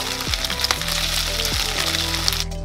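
Marinated tilapia pieces sizzle and crackle in hot oil for chilli fish, a dense, steady frying hiss heard up close without talk.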